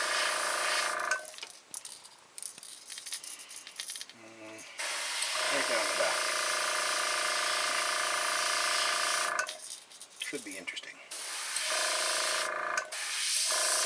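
Airbrush-like spray hisses in long steady bursts, spraying paint through mesh onto a fishing lure, stopping and starting, with brief quiet talk in the gaps.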